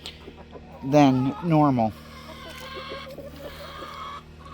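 A rooster crows loudly at close range on an off-grid Florida homestead, giving two quick calls. Softer chicken clucking follows, and a person speaks briefly.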